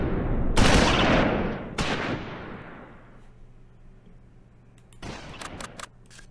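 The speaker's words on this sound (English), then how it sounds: "Looks like our tank is getting some decent shots here." Tank and infantry gunfire in the Close Combat IV Battle of the Bulge game, with two loud sharp blasts decaying into rumbling echoes, then a quieter lull and a burst of rapid cracks near the end.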